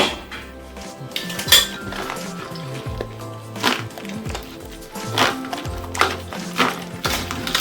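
Eggs are cracked and emptied into a bowl while a pistachio dish with meat and fish is prepared, giving close, loud clinks and knocks of shell and utensils on crockery, scattered irregularly amid kitchen clatter.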